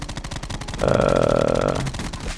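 Automatic gunfire from a weapon in Call of Duty Black Ops 4, a sustained rapid burst of about a second standing out loud against busy game background sounds.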